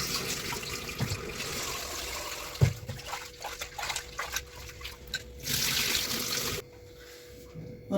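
Uncooked rice being washed in water before soaking for rice murukku, with pouring and sloshing water, grains being stirred and swirled, and a few knocks against the vessel, continuous and close before it quiets near the end.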